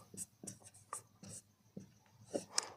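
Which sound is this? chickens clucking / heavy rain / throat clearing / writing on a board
writing on a board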